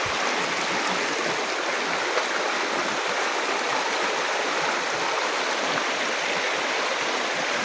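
A fast-flowing jungle river on the trail to a waterfall, rushing steadily and loudly with a dense, unbroken wash of water noise throughout, no voices.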